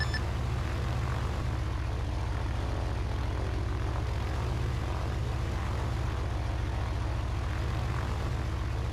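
A propeller airplane coming in to land on runway 25 at a new airport in the video game ARMA 3, with a steady droning engine hum holding level throughout and no voices.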